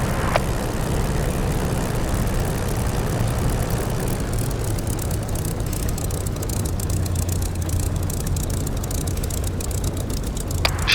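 A Spitfire's piston engine idles and rumbles steadily while taxiing onto a runway in a flight simulator, a continuous low drone with faint clicks at the start and end.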